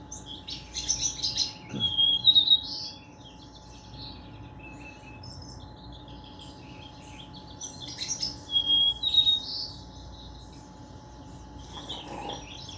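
Birds chirp and tweet from a television speaker in short clusters of high, thin calls, moderately loud, with quieter gaps between bursts and a faint steady electrical hum underneath.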